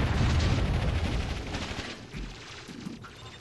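Heavy rapid weapon fire and booming impacts from a battle in the real-time strategy game Warzone 2100 rumble steadily and loudly, thick and low, tapering slightly toward the end.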